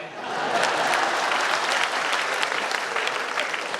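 Dense, loud applause from a large audience at a Holi festival comedy poetry gathering in Mewar, a continuous sustained roar of clapping with no talk over it.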